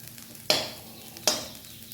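Bottle gourd greens frying in a pan are stirred with two distinct scraping strokes, each a sharp burst that fades back into a soft, steady sizzle, heard up close with no talking.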